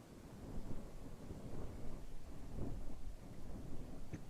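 A thunderstorm with rain in the survival game The Sapling, heard as a steady low rumbling wash of rain and wind with rolling thunder swells, continuous and fairly close throughout.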